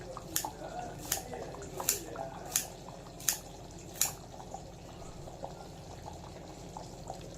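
Mutton kuzhambu simmers in a pot, with a low bubbling bed and a regular run of about six sharp popping bubbles near the start before the bubbling settles to a softer, steady burble.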